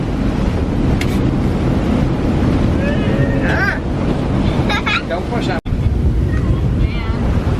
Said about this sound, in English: Okay, 47 knots of wind hitting us.